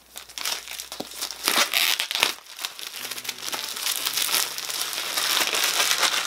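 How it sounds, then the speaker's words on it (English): Plastic wrap is peeled off a SNES console box, giving loud close crinkling and crackling that comes in bursts and builds into continuous rustling. "So I'm gonna take off the plastic."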